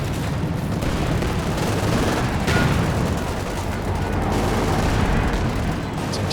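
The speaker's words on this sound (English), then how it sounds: "Some major artillery coming down" Artillery fire in Company of Heroes 2, a loud continuous barrage of booming impacts and crackling gunfire layered densely together, with heavier blasts standing out, and no speech.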